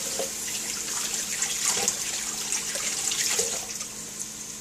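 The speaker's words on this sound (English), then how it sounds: "Come over here and wash the hands." Water running steadily from a kitchen tap while hands are washed after cooking beef stroganoff, a continuous close hiss and splash with light shifting as the hands move under the stream.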